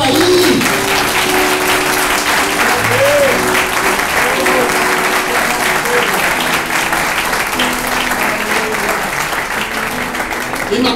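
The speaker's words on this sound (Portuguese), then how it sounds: "Você pode aplaudir ao Senhor aí?" A church congregation applauds during a Lord's Supper service, loud sustained clapping across the room with voices and cheers mixed in beneath it.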